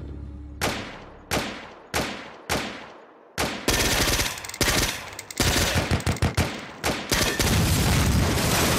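In a combat video game, a rocket explodes and destroys a technical. Four sharp, evenly spaced shots ring out first, then a continuous barrage of loud gunfire and blasts follows.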